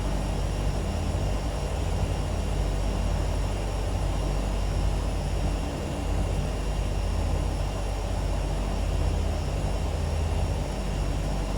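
Twin turboprop engines of a Turbine Duke V2 in a flight simulator hum steadily and loudly, a constant broadband drone with low rumble that holds through the whole stretch without pause.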